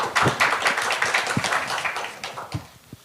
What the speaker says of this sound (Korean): 나오시는 모든 분들을 위해 큰 박수 부탁드립니다